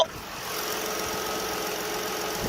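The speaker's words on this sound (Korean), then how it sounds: "이렇게 엔진 소리 듣기 위해서 분네트까지 개방을 해봤습니다. 지금 바로 엔진 소리 한번 자세하게 들려드릴게요." A gasoline SUV engine idles steadily and quietly up close with the hood open, a smooth continuous hum with a faint ticking texture.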